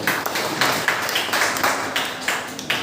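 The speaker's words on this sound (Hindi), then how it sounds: "एक जोरदार तालियां बजाओ पहले।" A crowd claps together in a school hall during a career counselling session, the sound loud and steady with sharp overlapping slaps.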